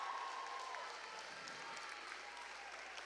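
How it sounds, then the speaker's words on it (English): A school audience applauds its teachers at a Riverside event, with steady, faint applause from a crowd heard at a distance, continuing evenly throughout. "A round of applause for the teachers that supported us."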